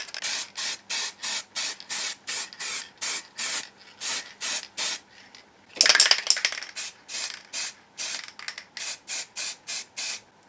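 Rattle-can aerosol spray painting a custom motorcycle tank, heard as a steady run of short, loud bursts in even rhythm, broken near the middle by one longer, noisier hiss before the regular bursts resume, close up with no talking.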